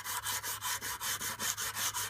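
A knife blade bevel being hand-sanded with abrasive grit: a close, steady back-and-forth rasping, about ten even strokes in two seconds, loud and alone.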